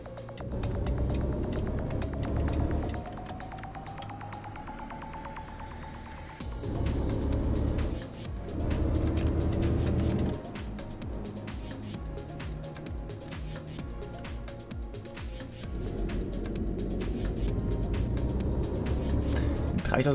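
Truck engine rumbling in the driving game Euro Truck Simulator 2, a low steady drone that rises and falls with shifting load and brief mechanical clunks, with a person talking over it throughout.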